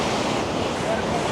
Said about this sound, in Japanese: ここね、水しぶきが飛んできますよ。